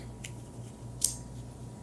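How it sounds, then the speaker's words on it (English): Scissors snip yarn ends against a piece of cardboard while making a tassel, two quick, crisp cuts, the second sharper and louder, over a quiet room hum. "We're going to slide our scissors between the yarn and the cardboard and just snip the ends, just like that."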